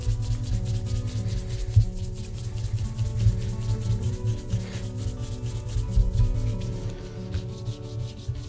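Waxy Horween shell cordovan leather is polished by hand, a close, soft rhythmic rubbing that swishes back and forth in quick repeated strokes, fairly quiet and with no talking.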